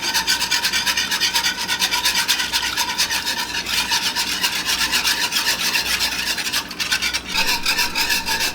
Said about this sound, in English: So we're gonna start to whisk in our cheeses.